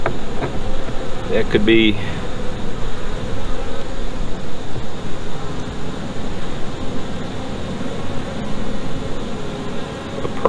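Honey bees drone in a continuous buzz over a hive frame, close and fairly loud, while someone speaks briefly and a short clatter sounds early on.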